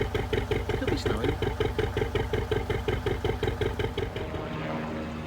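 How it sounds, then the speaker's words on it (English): A helicopter flies overhead during a rainy canal boat trip, with a loud, steady rhythmic thudding rotor beat that eases into a fading drone at the end. "I do wish that helicopter would disappear."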